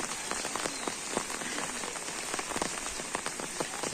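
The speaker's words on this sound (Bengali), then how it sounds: "বৃষ্টির পানি" Steady rain falls on surfaces with a dense, even patter of drops, moderately quiet and continuous with no voices.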